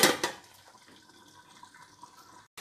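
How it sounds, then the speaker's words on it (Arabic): Boiling water is poured into a pan of oxtail and onions cooking on the stove, a faint, steady trickling pour with small splashes after a brief louder clatter at the start. "لو لسه ما استوتش برده هضيف لها كوبايه ميه مغليه سخنه"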